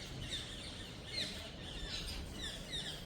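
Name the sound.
parrot calling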